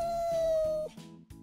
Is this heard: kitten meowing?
yes